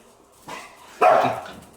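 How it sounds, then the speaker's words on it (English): A dog barks twice at someone inside the house, a softer bark followed by a louder, sharper one about half a second later, heard fairly close by. "That's Annie barking at someone inside."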